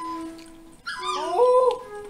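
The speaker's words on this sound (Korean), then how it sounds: "오, 강아지다, 강아지." A puppy whimpers and then lets out a rising, wavering howl and yips, close and fairly loud, alone with no talk.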